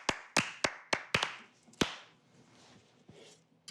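A slow, deliberate hand clap for a freshly sliced sandwich in a cooking kitchen: about seven sharp, loud claps spaced roughly a third of a second apart, then a quiet stretch with a couple of softer taps near the end.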